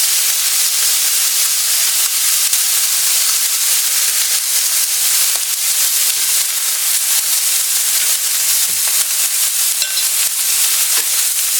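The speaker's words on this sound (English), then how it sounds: "we're taking this step here of searing our pieces of meat before we cook them in our crock pot tomorrow" Pieces of meat sear loudly in a hot pan ahead of a crock pot barbacoa, giving a dense, steady sizzling hiss close up with faint stirring bumps.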